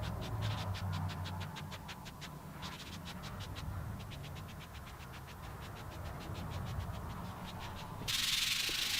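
Sandpaper of 320 grit rubbing across a wooden guitar body, a steady close scratchy hiss of repeated back-and-forth strokes, with a brighter, louder stroke near the end.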